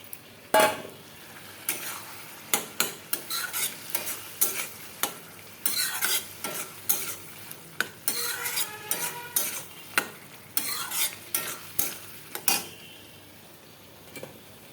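Parboiled potatoes and peas are stir-fried in a pan over a soft sizzle, with frequent sharp clacks and scrapes of a spatula against the pan in an uneven rhythm, close up and with no talking.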